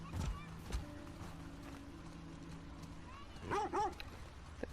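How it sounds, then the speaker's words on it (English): Late in the stretch, a dog in The Last of Us Part II gives a couple of short barks or yips over a low, steady game ambience in a snowy town, moderately close. "Look at this dog. I love dogs."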